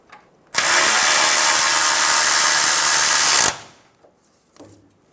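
A power tool drives a bracket bolt into the frame of a 2000-2006 Toyota Tundra, one loud, steady whirring burst of about three seconds that stops abruptly, followed by faint clinks.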